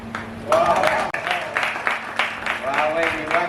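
Guests at a family wedding celebration clap after a traditional couplet, a short burst of applause mixed with voices and laughter.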